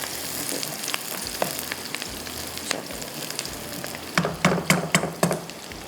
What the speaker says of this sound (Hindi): प्याज फ्राई होता है